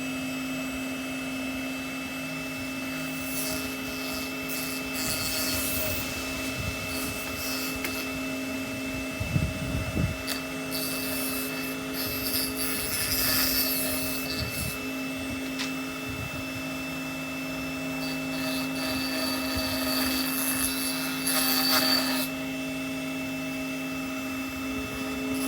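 A Tiger teeth blade sharpener works on a saw blade with a continuous motorized whine and hum, broken by intermittent grinding bursts and scraping contacts, close-up and without speech.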